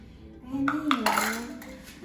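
Mochi ingredients and sugar mixed in a bowl, a few light clinks and scrapes of utensil on the bowl over a steady hum, close and fairly quiet.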